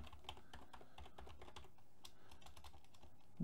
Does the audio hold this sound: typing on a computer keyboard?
yes